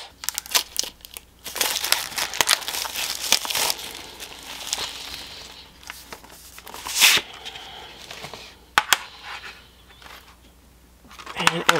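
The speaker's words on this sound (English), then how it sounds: "So the first thing we need to do is get this plastic off." Plastic wrapping being peeled and crinkled off a tin of Caran d'Ache watercolor pencils, a close, busy run of crackling, crumpling and tearing with bursts and short pauses throughout.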